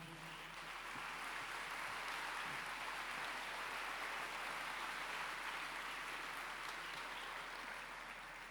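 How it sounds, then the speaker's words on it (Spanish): A church congregation applauds in a sustained, even wash of clapping that holds at a moderate distance for the whole stretch with no voices on top. "¿Le puedes dar un aplauso al Señor?"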